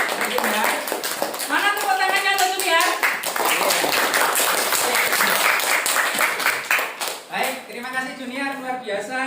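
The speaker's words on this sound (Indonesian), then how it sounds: "Iya, luar biasa, tepuk tangan dulu yang meriah." Schoolchildren in a classroom clap in a lively burst during a lesson on the human respiratory system, their rhythmic clapping mixed with voices of the teacher and children talking over it.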